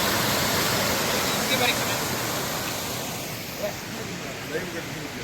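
Steady roar of Chinnakanal Waterfalls, a roadside waterfall in Munnar, loud and continuous, filling the whole clip with a broad rushing wash.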